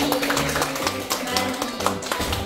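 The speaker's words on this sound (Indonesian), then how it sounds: "Tepuk tangan untuk Marti." Applause for a performer named Marti at an Indonesian teachers' learning presentation: a short burst of hand clapping with sharp irregular taps over a low background murmur.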